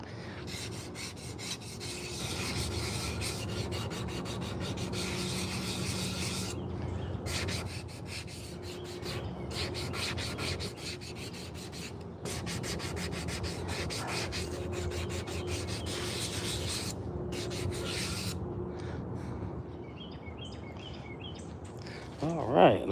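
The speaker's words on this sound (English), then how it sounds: "Sanding a spoon. Hand carved one." Rasping sandpaper rubs over a hand-carved spalted wooden spoon outdoors in cold morning air, with a steady back-and-forth scratching that runs almost continuously, pausing briefly now and then, with faint birds in the background.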